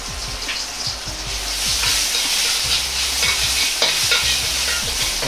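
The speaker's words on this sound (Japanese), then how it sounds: "生姜と唐辛子を入れ炒めます。" Ginger and chili sizzling and frying in sesame oil, a steady crackling hiss with a spatula stirring and scraping in the pan throughout.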